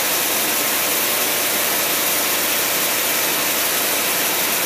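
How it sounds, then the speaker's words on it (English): Cadillac engine running on its carburetor, a loud, steady, even roar with a broad hissing rush and no break in its drone. "Carburetor runs"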